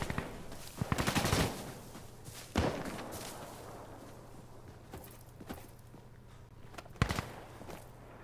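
Distant gunfire in the tactical shooter Insurgency Sandstorm, with scattered sharp shots and short bursts at irregular intervals over a low steady ambient rumble, fairly faint and with no talk.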